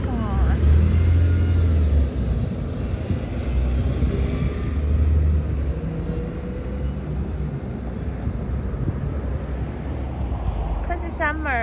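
A city bus pulls away on a summer street, its low engine rumble steady and fairly loud with a deep throb near the start, surrounded by outdoor traffic noise and voices talking.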